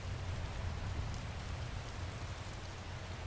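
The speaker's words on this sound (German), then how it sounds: "Oh, es regnet." Steady rain pours down in the video game Skyrim, a dense even patter of drops hitting surfaces throughout, with no voices.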